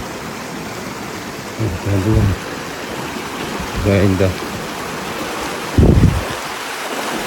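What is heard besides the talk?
stream of water flowing from a waterfall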